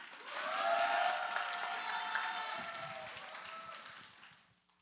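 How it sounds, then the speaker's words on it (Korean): Audience at a church speech contest applauding as a contestant is welcomed: a swell of clapping that builds quickly, holds, then fades away, with a faint voice mixed in early. "응원의 박수 부탁드립니다."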